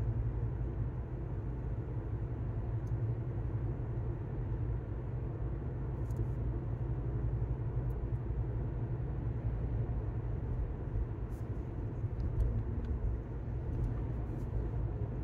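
Steady low road rumble from inside a car driving on a highway toward Alamogordo, New Mexico, a constant droning hum with no talking.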